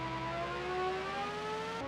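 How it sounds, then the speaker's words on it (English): Synthesized car engine in a Tecmo racing game tunnel section, a steady rising tonal whine with strong harmonics and an echoey, reverberant quality, sustained and alone without talk. "They changed the car engine sound when you go into the tunnel."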